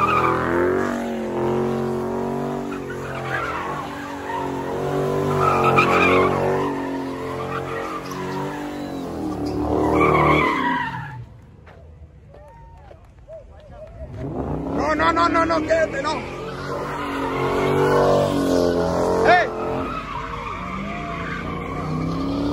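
A Ford Mustang at a Sunday cruise skids with loud screeching tires and revving engine in two long bursts separated by a brief quieter pause, with people shouting and talking around it.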